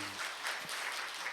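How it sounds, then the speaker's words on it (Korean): A church congregation gives warm applause, a steady faint wash of clapping from a distance. "하나님 앞에 뜨거운 박수 드릴까요?"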